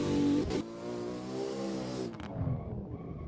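Drift cars in the Assetto Corsa video game, a Nissan S15 and a Mazda RX-7 FC, revving at the start line: a loud, sustained engine note that holds, then drops off sharply before a lower rumble returns.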